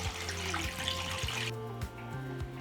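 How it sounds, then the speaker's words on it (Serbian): Warm water runs steadily from a tap into a pot holding jars set on a cloth, preparing them for pasteurization in a water bath; the stream flows continuously, then thins near the end. "i nalit ću toplu vodu do vrha poklopca"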